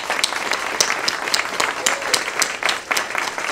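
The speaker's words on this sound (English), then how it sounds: "Please give them a round of applause." Audience applauding building maintenance, nursing and administrative staff at the High Ridge House annual meeting, a steady, dense patter of many hands with a few sharper individual claps standing out, sustained and fairly close throughout.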